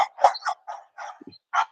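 Dogs barking on a farm, a quick series of sharp, moderately close barks and yips in uneven bursts with short pauses between.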